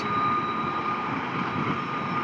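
A train locomotive rumbles past at the Tehachapi Loop, a steady diesel engine drone with a sustained whine, heard from trackside with no talking.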